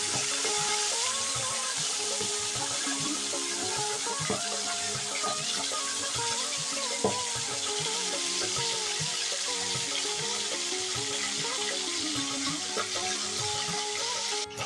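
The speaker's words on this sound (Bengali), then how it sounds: "তেলটা গরম হয়ে গেছে, মাছটা দিয়ে দিচ্ছি। মাছটা হালকা করে ভেজে নিতে হবে" Tilapia fish frying lightly in hot mustard oil makes a continuous, even, moderately quiet hiss and crackle that stays steady throughout, with no talking.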